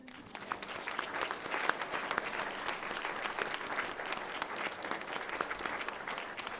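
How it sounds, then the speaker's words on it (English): A church congregation during a Sunday service gives a round of applause, a continuous patter of many hands heard somewhat distant and soft, steady for several seconds. "Let's give us a round of applause."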